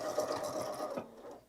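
A Bernina sewing machine runs steadily while stitching a seam, giving a close, even whir for about a second before it quiets and slows near the end.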